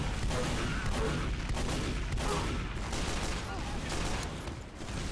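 Pistol shots in Team Fortress 2 gameplay, a dense rapid stream of gunfire and game noise, loud and continuous throughout.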